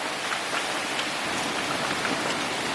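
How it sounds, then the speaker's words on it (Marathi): Steady monsoon rain in Konkan patters down in a dense, even wash of noise, continuous and fairly close, with no voices. "पाऊस आता जस्ट कमी झालाय पण हवा बघा"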